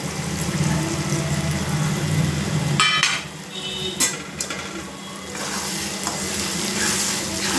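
Beaten eggs hit a hot pan for egg bhurji, giving a steady close sizzle and frying hiss throughout, with a brief louder burst and some stirring clatter partway through.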